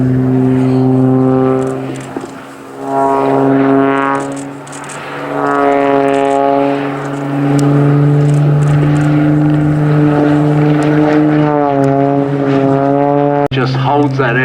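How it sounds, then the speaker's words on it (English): A propeller aeroplane flies aerobatic display manoeuvres at the Old Warden June flying day in 2013, its engine a loud, steady harmonic drone that rises and falls in pitch as it climbs, rolls and dives. "now he's allowing the aeroplane to be driven by the prop"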